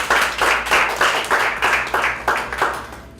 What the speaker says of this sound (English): So claps for everyone.